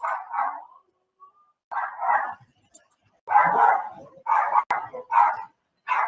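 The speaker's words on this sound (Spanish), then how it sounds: "La banda sonora es de uno de mis perritos" Small pet dog barking in a series of short, sharp yaps in clusters, fairly close and alone, with brief gaps of silence between.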